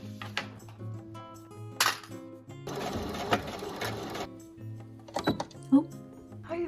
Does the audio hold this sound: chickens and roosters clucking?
no